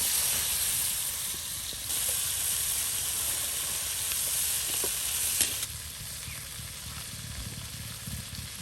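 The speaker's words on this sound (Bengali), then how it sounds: "আর এখন পাঙ্গাস মাছগুলো ভেজে নেওয়া হচ্ছে।" A large batch of pangas fish fries in hot oil, giving a steady loud sizzle and hiss with occasional stirring clatter, the frying dropping slightly in level partway through.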